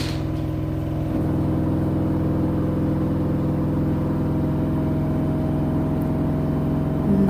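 An LG washing machine drum spins fast to wring out clothes, a steady close-up whirring hum with a droning motor tone that holds even and continuous throughout.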